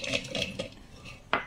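Dried kamias dropped into a clay pot for cooking sinaing na tulingan, a few light clinks and knocks, with one sharper tap near the end, close and faint.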